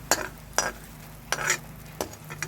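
Onion, tomato and green chilli fry in hot oil in a wok for aloo pitika, with a steady sizzle under several sharp stir-and-scrape clatters of a spatula against the pan.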